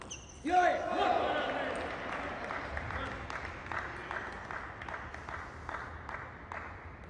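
A crowd at a table tennis match breaks into loud applause that swells and then fades into scattered clapping. A commentator talks over it.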